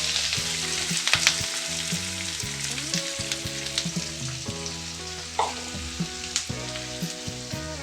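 Sliced onions and green chillies fry in hot coconut oil, a close, steady sizzle with crackles and occasional stirring scrapes, alone without speech.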